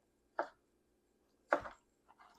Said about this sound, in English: And I cut down like that to get some relatively uniform pieces, and I'll go ahead and do it again